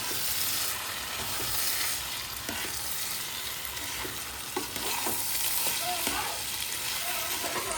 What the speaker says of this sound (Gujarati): પૌવા નાખી દીધા હે હવે એની થોડીક હલાવવાના મિક્સ કરવાનું